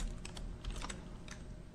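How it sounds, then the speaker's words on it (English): Keystrokes on a computer keyboard in a quiet room, several quick clusters of clicky taps across a short stretch, close and fairly soft with no talk. "we'll type wiggle"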